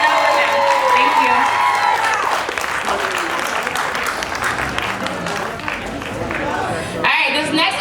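An audience claps and cheers for an absent student at a youth music program's year-end showcase in a community arts center, with sustained dense applause and crowd noise throughout.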